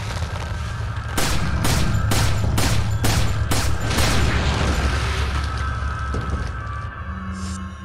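Rapid gunfire from Resident Evil 4, a burst of about seven sharp, evenly spaced shots over a loud, steady game soundscape, with no talking.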